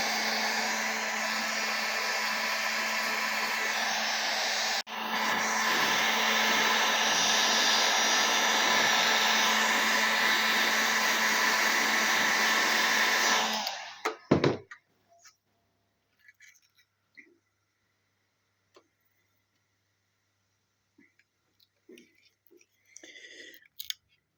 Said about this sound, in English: get your heat gun and just warm up the outside of that plastic